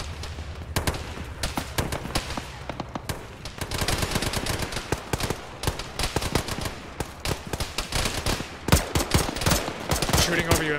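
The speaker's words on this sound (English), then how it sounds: "Shooting over you, M2-8." Sustained machine gun fire in a jungle firefight in the ShackTac ArmA video game, dense rapid bursts and scattered single shots crackling continuously, some near and loud, others more distant.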